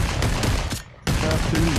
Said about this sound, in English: they started shooting at me